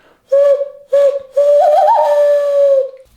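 A loon call imitated by whistling through cupped hands: two short hooting notes, then a long sustained wail that wavers upward and holds, loud and close with no other sound.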